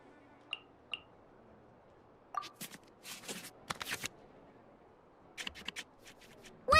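In a video card match, cards are shuffled back into the draw pile with a string of soft, quick card-riffle and flick effects in short clusters, fairly quiet and without voices.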